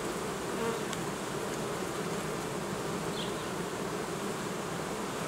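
Honey bees at an open beehive, a dense, steady buzzing swarm close by, continuous and alone.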